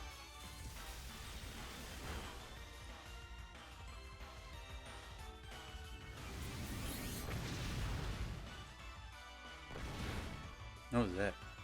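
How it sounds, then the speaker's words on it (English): An Explosion move in the Pokemon Sword battle, rumbling booms and crashing swells rising and falling over several seconds amid game music, with a louder burst of effects near the end and a voice talking at times. "What was that? Explosion."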